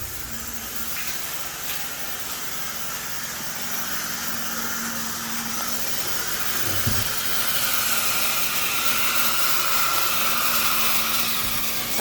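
A PMF professional cleaning machine fitted with a two-jet nylon brush attachment hisses steadily while scrubbing a shower, a continuous broad spray-like wash that grows slightly louder in the second half, with a brief thump near the middle.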